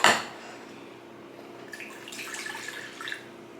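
Water splashes and trickles into a cooking pot at home, starting with a sharp close splash, then quieter dribbling and light clinks of the pot as it continues for a few seconds.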